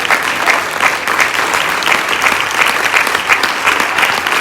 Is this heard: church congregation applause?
yes